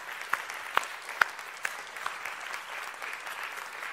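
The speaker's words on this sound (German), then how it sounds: "Das ist nochmal Ihr Applaus." An award ceremony audience at the Deep Tech Award 2022 claps in sustained, moderately distant applause, with a few sharper individual claps standing out early.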